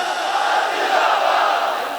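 Crowd at a Tajdar-e-Khatam-e-Nabuwat religious conference in Faisalabad shouting a slogan together, a loud, sustained mass of voices with no pause.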